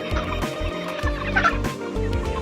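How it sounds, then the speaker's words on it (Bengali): A crowd of 35-day-old broiler chickens on a poultry farm clucks and murmurs nearby in overlapping, busy bursts, a dense flock chattering without pause. "এই হচ্ছে আমাদের মুরগি পঁয়ত্রিশ দিনের মুরগি"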